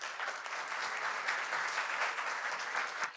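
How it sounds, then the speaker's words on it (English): Enthusiastic audience applause at a political conference opening at Sundbyholm Castle: dense, steady clapping from a large crowd, loud and continuous for about three seconds with no voices over it. "Big applause."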